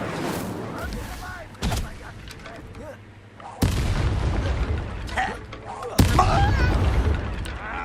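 Incendio fire spell cast in the video game Hogwarts Legacy, heavy booming blasts and bursts of fiery impact in repeated strikes amid combat, with speech heard during the fight.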